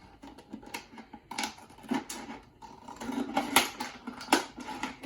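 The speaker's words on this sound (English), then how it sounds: "And I'll take my scissors" Scissors cutting around the top of a plastic soda bottle, a series of close, crisp snipping and crinkling sounds in an irregular rhythm with small pauses between cuts.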